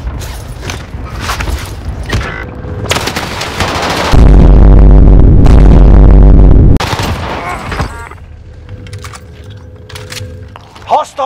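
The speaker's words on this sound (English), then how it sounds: "I'm taking fire" Gunfire during a Call of Duty: Warzone match on Rebirth Island, including the Owen Gun: rapid bursts of automatic fire and several very loud, heavy shots in the middle. Radio voice callouts come before and after.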